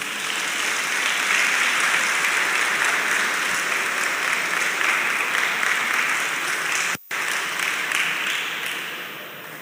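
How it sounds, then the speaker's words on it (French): Children applaud their teachers at a presidential ceremony honouring exam laureates, a dense, steady crowd clapping that fills the whole stretch, breaks off for an instant near the end, then carries on and slowly eases. "je vais vous demander les enfants d'applaudir les enseignants"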